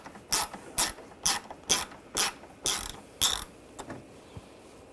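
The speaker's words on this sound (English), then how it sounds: "you're going to use a T30 socket, and on each side there is a screw. You want to take those out on both sides." Ratchet with a T30 socket backing out grill screws on a Volkswagen Tiguan: eight quick bursts of clicking in an even rhythm, close and moderately quiet, then two fainter clicks, with no talking.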